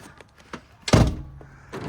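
The sliding side door of a 2015 Volkswagen Caravelle rolls and soft-closes with a soft, heavy thunk, close by, followed by a faint click.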